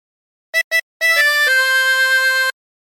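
A tremolo harmonica plays a short phrase from the hymn There's a River of Life: two brief clipped notes, a pause, then a bright reedy chord that shifts once and holds steady, loud and close with no voices.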